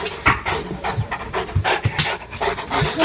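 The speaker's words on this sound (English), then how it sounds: "Just stop barking." A puppy pants quickly and breathily close to the microphone, with short, irregular puffs and a few sharp vocal bursts mixed in.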